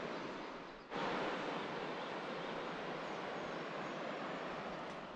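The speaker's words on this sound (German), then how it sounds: "Ich höre das Wasser noch rauschen von dem Bach da unten und die Vöglein zwitschern" Steady broadband rush of a stream flowing in the valley below a walking trail on the Camino Finisterre, continuous and fairly loud after a brief softer start; no distinct birdsong stands out above the water.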